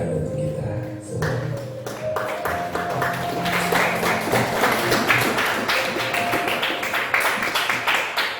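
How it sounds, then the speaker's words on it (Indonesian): Applause from a group gathered after a reflective coaching session, a steady patter of many hands clapping close by that builds and carries on throughout, with brief talk and light tapping near the start. "Kasih tepuk tangan untuk kita semua"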